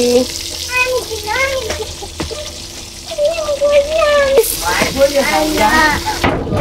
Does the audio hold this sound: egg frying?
yes